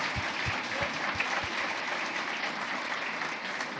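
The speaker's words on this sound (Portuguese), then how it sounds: "Uma salva de palmas para a dona Maria Luísa" Applause from a gathered audience for a woman on her birthday: a steady, even wash of clapping sustained throughout, moderately loud and without talk.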